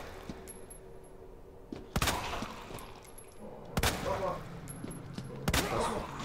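Three loud gunshots ring out in Resident Evil 2, spaced about two seconds apart over a low steady game ambience, with brief muffled speech between shots.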